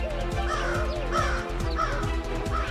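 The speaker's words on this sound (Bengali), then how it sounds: "কাক মোবাইল ফোন নিয়ে পালাচ্ছে রে" A crow in a Bangla cartoon caws repeatedly in a steady, harsh rhythm, loud and close, with a bright musical score playing underneath and no talk.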